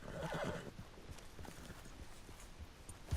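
A horse gallops in Red Dead Redemption 2, its hooves beating a quick, steady clip-clop rhythm at low volume, with a brief snort or whinny early on and no talking.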